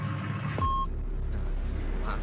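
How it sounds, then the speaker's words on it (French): Noisy truck passing near a research centre, with a brief high reversing beep sounding over a loud, deep engine rumble that keeps rolling on afterwards. "laissons passer ce camion bruyant"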